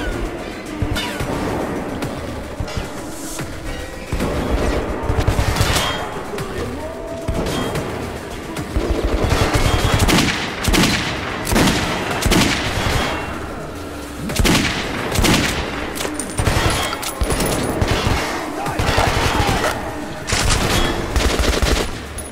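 Rapid gunfire bursts from the video game Metro 2033 Redux, repeated volleys of loud close shots spread across the whole stretch with short gaps, over a dense game background and no talk.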